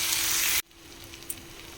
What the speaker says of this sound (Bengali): মশলাটা থেকে তেল ছেড়ে দিয়েছে, এটা ভালো করে কষিয়ে নিচ্ছি যেন এর মধ্যে কোনো কাঁচা গন্ধ না থাকে